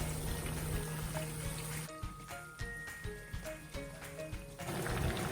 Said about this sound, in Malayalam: ഇനി നമുക്ക് ചിക്കൻ പീസ് ഓരോന്നോരോന്നായിട്ട് ഇട്ട് കൊടുക്കാം.